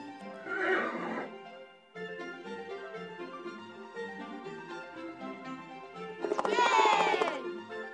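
A horse whinnies twice in a children's animal game, shrill and wavering, over a steady musical backdrop; the second neigh near the end is louder and closer.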